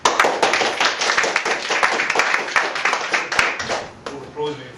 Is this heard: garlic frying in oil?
no